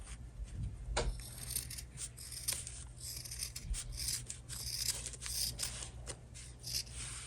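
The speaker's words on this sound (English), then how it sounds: "you can go and trim around a little bit so it's not too thick" Scissors snipping through fabric around a sewn seam on a small coin wallet, a series of quiet close crisp cuts in an uneven rhythm, with faint rustling of cloth and no talking.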